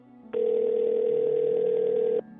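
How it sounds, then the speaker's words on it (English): A phone handset lying on a floor gives a single steady ring tone about two seconds long. It is clear and fairly loud, with nothing else heard around it. "the phone began to ring."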